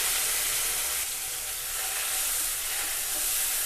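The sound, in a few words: chopped tomatoes frying in a pan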